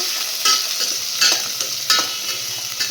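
Garlic sautés in plenty of hot oil in a pan for a tamarind curry: a loud, bright sizzle close up, broken by three firm stirring scrapes at even intervals.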